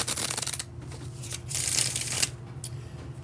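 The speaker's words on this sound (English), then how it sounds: "we are going to do the bridge shuffle for you" A deck of cards gets a bridge shuffle, riffling in two crisp, close bursts, then the cards cascade and settle with lighter taps at the end.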